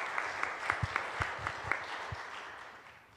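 Faint applause from a church congregation, distant and soft, with a few sharper claps standing out before it fades away.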